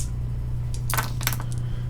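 Several dice tumble and clatter across a tabletop during a solo tabletop board game, a quick cluster of light clicks and rattles over a steady low hum, close and fairly faint.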